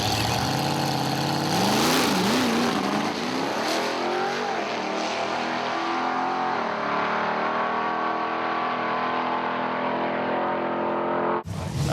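A 468 big block Rat drag car engine revs hard at a drag racing meet, loud and close, its pitch climbing and wavering before it settles into a steady roaring hold and then cuts off abruptly.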